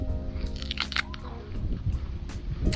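Someone bites and chews the tough peel of a giant olive-like fruit, producing close, wet crunches and squishy mastication in uneven bursts.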